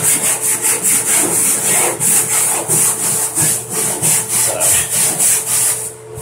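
Sanding a rough spot on a bathtub surface during resurfacing, a steady back-and-forth rasping scrub with a quick regular rhythm, close and fairly loud, with no talking.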